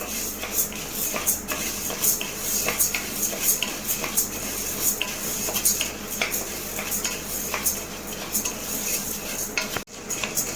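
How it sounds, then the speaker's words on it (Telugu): Half a kilo of toor dal is dry-roasted in a pan and stirred steadily, making a continuous close rattle and scrape of lentils against metal with spoon clinks throughout, and a sudden brief drop near the end. "ఇవి 1/2 కిలో కందిపప్పు. ఇవి లైట్గా వేపుకుందాం."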